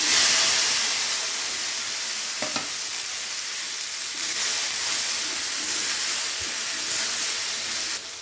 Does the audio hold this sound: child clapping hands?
no